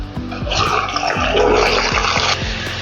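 Sliced chicken breast, washed and dried, tipped into hot oil with frying onions for a restaurant-style Punjabi chicken jalfrezi, giving a loud, steady sizzle and crackle that runs without a break, with some clattering near the start.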